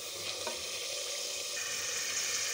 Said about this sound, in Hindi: मसाला भून चुका है, घी छोड़ दें मसाले में।